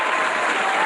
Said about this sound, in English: let's hit the round of applause for